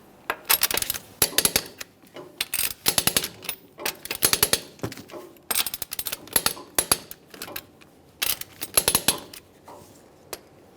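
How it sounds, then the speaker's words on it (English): A torque wrench tightens the wheel lug nuts on a 2013-2020 Ford Fusion, giving sharp, close metallic clicks and ratcheting in irregular clusters with brief gaps between nuts. "we'll torque each one of our lug nuts to 100 foot-pounds in a crisscross manner"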